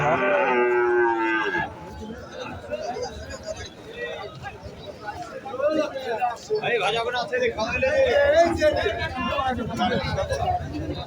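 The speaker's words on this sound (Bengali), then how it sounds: "দেখতে পাচ্ছেন এটা বিভিন্ন রকমের গরু" A cow moos loudly and long at the start at a busy cattle market, followed by crowd chatter and someone talking close by, with faint animal sounds in the background.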